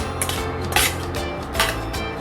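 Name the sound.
grated egg being mixed into chowmein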